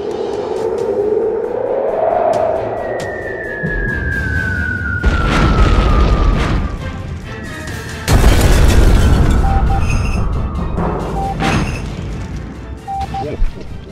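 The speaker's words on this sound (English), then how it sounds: "Begin bombardment!" A bombardment of heavy booms and crashing blasts runs loudly almost the whole time, with whistling descending tones and rumbling impacts, and voices are faintly mixed in.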